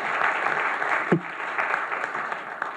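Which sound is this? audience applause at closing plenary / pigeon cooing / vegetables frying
audience applause at closing plenary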